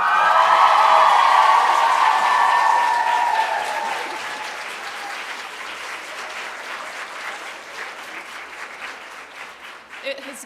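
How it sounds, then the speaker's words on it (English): Conference audience at a girls' leadership summit gives a loud round of applause with scattered whoops, strongest at first and gradually thinning as it continues. "Could we give him a massive round of applause?"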